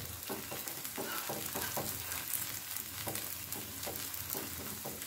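Garlic paratha frying in ghee on a hot pan, cooked on both sides, with a steady close sizzle and repeated soft stirring or pressing sounds throughout, no talking.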